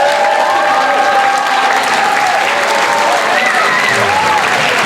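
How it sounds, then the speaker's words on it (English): A school fun-fest audience gives a sustained round of applause, loud and steady throughout, with cheering voices and whoops rising over the clapping. "Please give them a round of applause."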